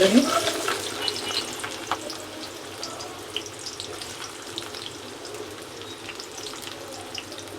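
Singhi fish pieces sizzle steadily in a hot pan, a close continuous frying crackle with small pops and bursts scattered through it, and no voices over it.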